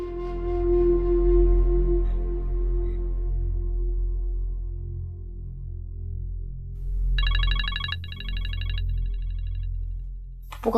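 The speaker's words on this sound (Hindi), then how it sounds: "पप्पू का फोन है। उठाओ ना।" A low hum and tones fill the background, then an electronic phone ring trills nearby in two short bursts before cutting off.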